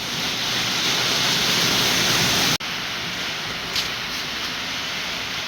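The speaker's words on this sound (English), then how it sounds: "It is pouring here at the house." Heavy rain pouring outside a house, a dense steady hiss that fills the space, briefly cut and then continuing slightly softer, with no voices.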